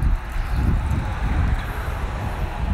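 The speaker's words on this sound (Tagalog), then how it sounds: "Malakas yung hangin" Strong wind buffets the microphone in a constant low rumble, gusting unevenly throughout with no voices.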